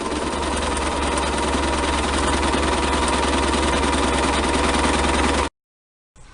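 A sewing machine runs continuously, stitching two fabric strips together for an apron, with a steady mechanical whir and rapid needle rhythm that stops abruptly, followed by a short silence.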